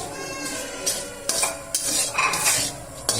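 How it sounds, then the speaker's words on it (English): Fried prawns tipped into a pan for a Kerala-style prawn roast and stirred, with scraping spoon strokes and metallic clinks against the pan over a soft sizzle, several sharp knocks close by. "Now we are going to add the fried prawns."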